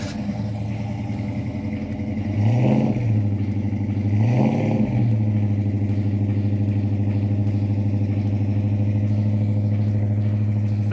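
A 1972 Dodge Dart Swinger's 383 V8 idles with a deep, loud rumble at a muscle car auction, rising in two short throttle blips before settling back to a steady idle.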